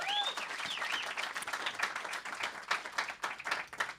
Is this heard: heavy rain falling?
no